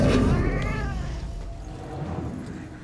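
A cat in the detective game Murdered: Soul Suspect lets out a loud, drawn-out meow that wavers and slowly fades over a few seconds, close and clear.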